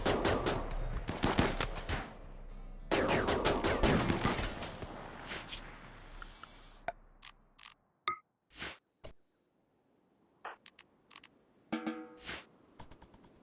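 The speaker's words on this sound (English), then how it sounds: "That was another triple rocket launcher." Bursts of explosive fire from a triple rocket launcher in a video game, two long dense barrages followed by scattered sharp separate blasts and trailing crackles, loud and close.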